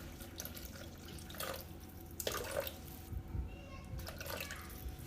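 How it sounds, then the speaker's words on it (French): A steady trickle with dripping splashes as 200 g of water is poured into a Moroccan seffa madfouna sauce in a Thermomix bowl, close and continuous throughout. "on rajoute 200 g d'eau dans notre sauce"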